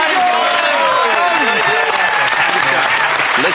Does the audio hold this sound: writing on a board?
no